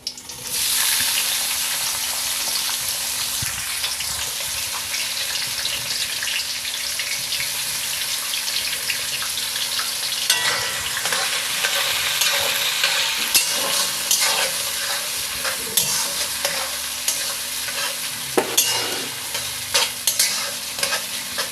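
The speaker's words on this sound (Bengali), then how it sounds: "তেলটা গরম হয়ে গেলে এখানে আমি পেঁয়াজ কুচানোগুলো দিয়ে দেব।" Chopped onions fry in hot oil spiced with cardamom for a Bengali mutton curry, a continuous loud sizzle with frequent scraping stirs and clatter through the latter half, with no talking.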